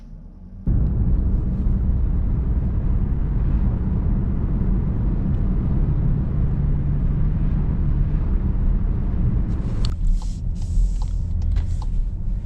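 A 2020 Volkswagen Atlas Cross Sport SEL Premium R-Line V6 4Motion cruising, a steady low cabin rumble of engine and road noise, loud and continuous, with a brief rustle near the end.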